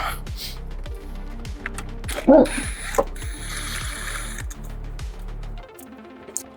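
A hand ratchet clicks steadily in a close, rhythmic series while a bolt is backed out of a 2008 Honda Ridgeline engine during a valve adjustment, with a brief clunk of tools midway and the clicking stopping near the end.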